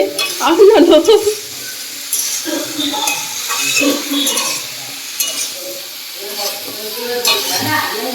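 Jackfruit sizzles and fries in a pan while a utensil stirs and clinks against it in uneven bursts, close by, with someone talking over parts of it.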